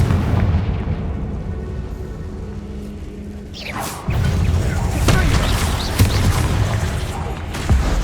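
In Hogwarts Legacy, inside the Feldcroft catacomb, a Confringo blasting spell goes off with a loud close explosion. A deep burst swells into rumbling debris, and further booms and cracks come after it.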